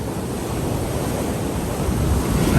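Ocean waves roll onto Saud Beach in Pagudpud after rain, a broad rushing surf mixed with wind buffeting the microphone, swelling louder toward the end.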